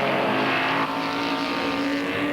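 Vintage race cars, including a Ferrari 250 LM, drive past during the 1997 Tour de France Auto classic, a steady loud engine roar with a shift in tone partway through.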